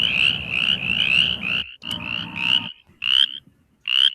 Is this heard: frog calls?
yes